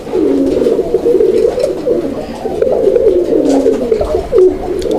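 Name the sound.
pigeon cooing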